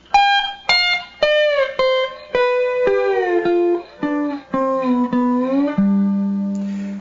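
A slide guitar descends through a run of gliding, sustained notes, with extra strings ringing sympathetically underneath and blurring the tones together.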